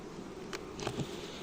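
Honeybees in a wintering hive give off a close, low continuous buzz with a few brief louder swells from single bees, and no one talks over it.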